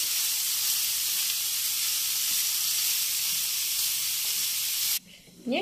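Potatoes and cabbage frying in a pan with black pepper and salt, giving a steady loud sizzle and hiss that runs unbroken before cutting off abruptly near the end.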